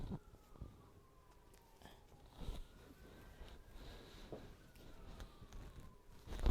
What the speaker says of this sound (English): I don't know if you can hear all those sirens, but it sounds like they're very close to my house.